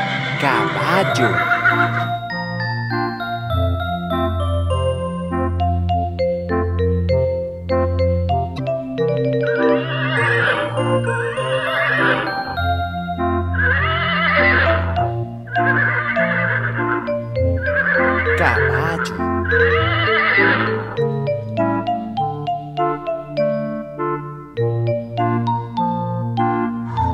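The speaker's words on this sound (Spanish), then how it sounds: "Caballo." Horse neighs and whinnies in a farm-themed children's song, several long whinnies over steady music with a voice singing along.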